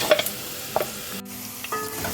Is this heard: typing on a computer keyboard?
no